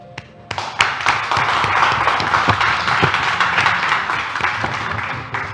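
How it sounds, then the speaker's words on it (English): Studio audience at a talk show clapping to welcome a guest, a dense burst of applause that builds quickly, holds, then tapers off with scattered claps. "So please give a round of applause to Aanchal."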